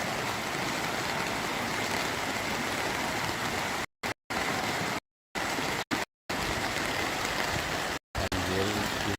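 Floodwater rushes heavily through Lahat, a loud, continuous roar of flowing water close by, broken by a few brief dropouts.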